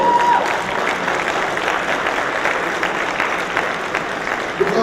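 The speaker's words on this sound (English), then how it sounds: "big round of applause" Audience applause fills a hall at an agri-business investment forum in Jamaica, a steady, dense clapping from a large crowd that carries on throughout without pause.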